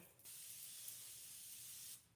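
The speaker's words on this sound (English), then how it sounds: "I'm gonna put my holding spray on." An aerosol can of hair holding spray hisses in one continuous spray lasting nearly two seconds, steady and close, with brief quiet before and after.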